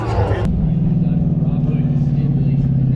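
A BMW 3 Series and a GT350 Mustang drag race at a spectator drag championship at the Freedom Factory, their engines a loud sustained rumbling drone close by, with crowd chatter underneath.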